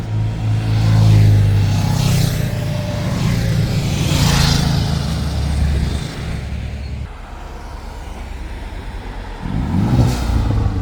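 Motorcycles pass along a road, engines droning loudly and close with a rising and fading rumble, then a quieter lull before another machine approaches.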